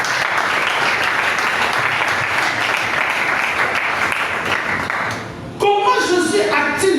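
A church congregation at a Sunday service bursts into sustained applause acclaiming the Lord, loud and dense, with voices cheering through it before the clapping gives way to music.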